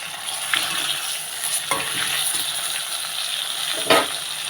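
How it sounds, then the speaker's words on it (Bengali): Fish curry with mustard gently stirred in a pan, a soft hiss of cooking under a few slow scrapes and clinks of a spoon, close and moderate, with one louder scrape near the end. "দিয়ে আস্তে করে নেড়ে দেবো"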